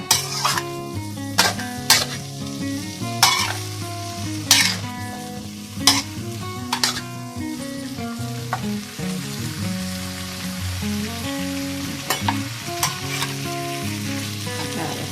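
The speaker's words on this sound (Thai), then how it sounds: "อันนี้เราใส่นะคะ ผัดพริกสดน้ำมันหอยนะคะ ผักหอมกับคะน้านะคะ" Vegetables and kale stir-fried with fresh chili and oyster sauce: a steady, loud sizzle broken by repeated sharp clanks and scrapes of a metal spatula against the pan, with no talking.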